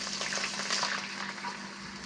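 Chicken blood poured quickly into hot frying oil, giving a steady loud bubbling, hissing sizzle throughout.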